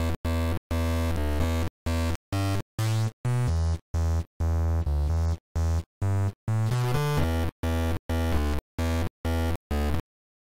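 A run of loud, choppy synth notes through a bit crusher with wave shaping, grainy and distorted buzz, playing in rapid staccato bursts with short gaps, no voices.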